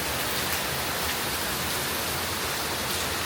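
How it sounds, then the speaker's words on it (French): Heavy rain with big drops pours down steadily in the mountains of Bali, a dense, even roar with no break from start to finish. "elles sont énormes les gouttes"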